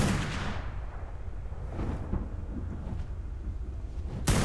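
Gunfire in a video game: a loud, sharp burst opens the stretch and another hits at the very end. Softer rumbling shots and booms fill the gap between them, with no talking.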